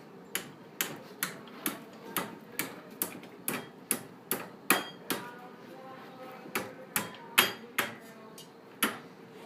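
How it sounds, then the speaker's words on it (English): Steady hammer blows on a wire coil being shaped for rings, about a dozen and a half sharp metallic strikes in an even rhythm, close and fairly loud. "You may have to hammer it."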